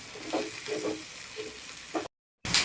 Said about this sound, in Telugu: ఉల్లిపాయ ముక్కలు కూడా వేగినాయి, పచ్చిమిర్చి వేగినాయి